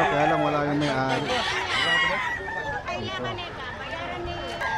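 Roosters at a busy pet market in Bocaue, Bulacan crow and cluck in the background while people chatter and talk over them nearby.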